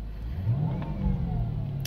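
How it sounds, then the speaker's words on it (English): The engine of a low-mileage 2006 Mercedes-Benz CLS500 revs up, swells, dips and climbs again in a smooth, close, continuous roar with a faint whine riding on top. "Vehicle revs beautifully."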